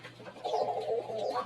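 A pet pigeon cooing near its nest with newly hatched chicks, a soft low throaty coo rising after a brief quiet start, close and clear with no talk.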